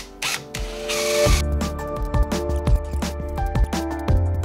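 A large drill bit bores a flat-bottomed recess into wood for a Shaker table's drawer runners, giving a loud, steady close-up whine with bursts of rising and falling motor pitch and short mechanical clicks between cuts.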